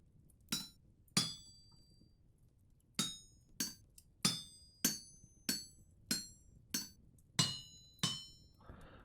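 Hammer strikes ring out while smithing a steel knife blade in Vintage Story, about a dozen sharp metallic clinks in an uneven rhythm, each with a bright ringing decay, close and clear with no talk.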